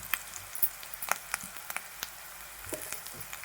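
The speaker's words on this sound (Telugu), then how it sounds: "వేసుకుని కరివేపాకు కూడా వేగేంత వరకు ఇలా ఫ్రై చేసుకోవాలి." Curry leaves crackling in hot tempering oil for a yogurt chutney, a steady close sizzle with scattered sharp pops and spits throughout, no voices.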